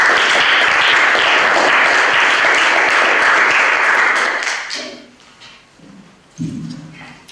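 A large audience applauds loudly and steadily for Professor Garon at a lecture event, then the clapping fades out and a voice begins.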